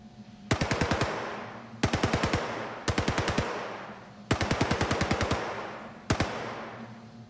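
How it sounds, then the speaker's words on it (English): Automatic weapon fire from the Star Citizen FPS module sounds in repeated short bursts of rapid shots, each burst trailing into a reverberant tail, with five bursts spaced a second or so apart. "The sound of different weapon fire also changes as you move to differing environments."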